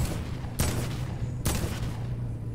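Two sharp gunshots go off in a video game, spaced under a second apart, each a loud burst over a low steady background.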